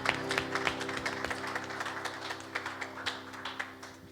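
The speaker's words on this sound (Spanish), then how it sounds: "Demos un fuerte aplauso a nuestro Dios por ese sacrificio que Él tomó." A church congregation claps in sparse, fairly regular strokes over a steady electrical hum, fairly quiet and without voices.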